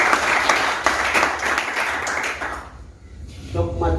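Audience applause at a school teacher-introduction event, a dense burst of many hands clapping for under three seconds, then fading out as a voice begins speaking.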